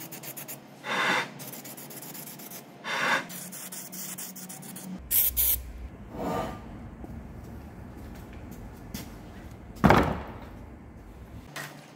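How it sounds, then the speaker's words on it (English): Rust preventative sprays from an aerosol onto a repaired machine part in a workshop, several separate hissing bursts of a second or so each at close range, the last one loudest, with quiet rubbing sounds between. "What I'm going to do now is spray on some rust preventative"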